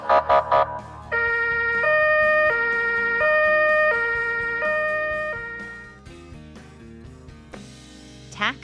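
A two-tone ambulance siren alternates steadily between high and low pitches, loud and close, then fades toward the end while other vehicle noise takes over.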